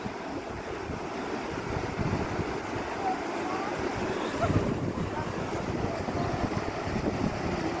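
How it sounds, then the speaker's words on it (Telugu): Excess water spills over a weir's stone skin wall downstream, a broad continuous rushing roar mixed with wind buffeting the microphone, steady and fairly loud. "ఎక్సెస్ వాటర్ వెళ్ళిపోతున్నాయి కదా"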